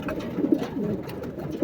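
Pigeons give soft, low, throaty coos close by, a few rounded calls rising over a murmuring background.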